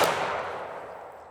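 A shotgun fires at a clay target during trap-style practice, a single loud blast at the very start that decays into a long fading outdoor reverberation, with no talking.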